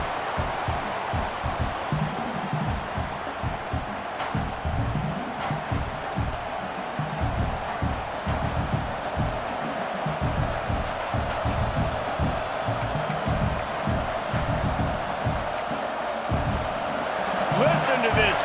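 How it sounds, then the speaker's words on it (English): Stadium crowd roaring in a college football video game during an LSU versus Alabama rivalry matchup, a continuous loud rumble of cheering with a commentator talking over it. "Listen to this crowd just shaking the girders of this place, trying to help their defense."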